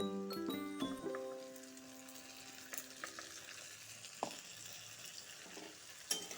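Diced potatoes frying in oil with onion, garlic, green chili, ginger paste and tomato paste, a steady close sizzle with a metallic clang at the start and scattered utensil clinks and stirring scrapes.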